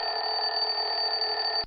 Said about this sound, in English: Your son gets one phone call.